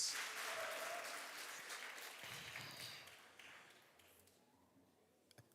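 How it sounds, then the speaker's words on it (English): Audience applause at a youth dialogue event with a national president, a loud burst of clapping that fades away over several seconds, with no voices. "A round of applause, please."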